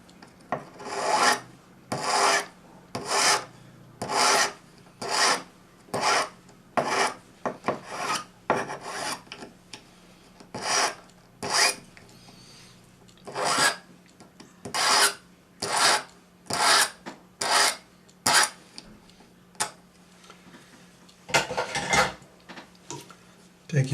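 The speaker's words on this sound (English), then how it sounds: "Number 2 cut flat hand file, and just file a nice bullet shape on the end." A number 2 cut flat hand file shapes a bullet-shaped end on a metal pin, making about twenty steady rasping strokes in an even rhythm, close and clear with no talk.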